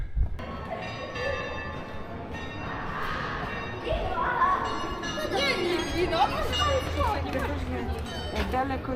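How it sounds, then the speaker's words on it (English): Bells in a park in Kosice, Slovakia, ring at a distance through an outdoor crowd, with chatter and talking voices over the chiming. "the sound is not from the church tower, but from these bells here in the park."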